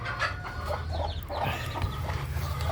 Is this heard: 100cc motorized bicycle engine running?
no